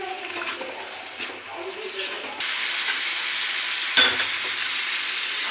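Roast meat with whipped sour yogurt is stirred in a hot pan, giving a steady sizzle and hiss with faint scraping. A short clatter comes near the end, and a voice speaks over the first half.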